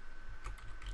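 Quick, quiet taps of a computer keyboard while code is being written, a brief cluster of close keystrokes.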